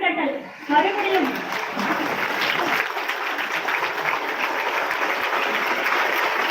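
A standing audience at a school reunion of former students breaks into sustained applause, a dense steady clatter of many hands that continues evenly for several seconds after a brief uneven start.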